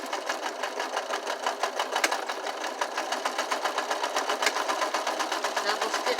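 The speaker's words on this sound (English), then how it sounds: "Double stitch that lock stitch." A sewing machine runs continuously while stitching the hemline of a curtain, a fast, even mechanical rattle heard up close with steady rhythmic pulsing throughout.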